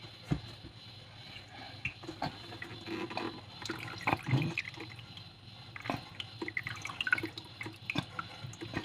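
Water drains from homemade butter being strained, giving faint trickles and irregular drips against a quiet background, with occasional small clinks and handling noises.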